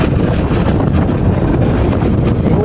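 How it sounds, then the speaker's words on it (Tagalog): Strong wind at sea buffeting the microphone aboard a small boat, a loud, continuous low roar with gusty rumble and no voices. "talagang pirsado ang hangin"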